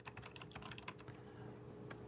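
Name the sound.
typing an address on a computer keyboard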